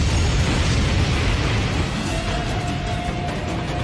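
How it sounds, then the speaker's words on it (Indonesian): A big explosion is set off to burn the enemy team, heard as a loud, sustained, rumbling roar that fills the whole stretch without pause. "Mang Hojun sudah bersiap untuk menyulutnya demi memicu ledakan besar guna membakar tim Dewa Iblis"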